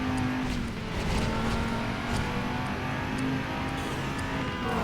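A car engine hums and drones steadily while driving in the video game Driver: San Francisco, with small shifts in pitch and faint tire and traffic noises, no talking.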